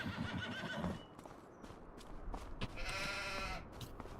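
Horses neighing in Farming Simulator 25, a whinny early on and another later against a steady game background, fairly quiet.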